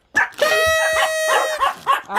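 Pet dogs nearby bark and yip excitedly in short bursts, with a whiny whimpering edge, while a squealing party noisemaker sounds at the same moment.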